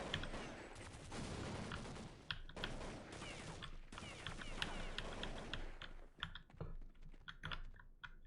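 Counter-Strike gameplay gunfire, with rapid bursts of shots and clicks mixed with clattering computer keyboard typing. Dense and busy at first, then thinning into sparse sharp clicks and bangs toward the end.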